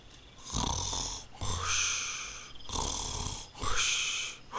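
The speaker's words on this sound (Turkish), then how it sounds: "Horlama sesini yanımda hissediyorum ya." Snoring in Minecraft, two full cycles of loud rasping inhale and exhale at a slow, even rhythm, close by with no voices over it.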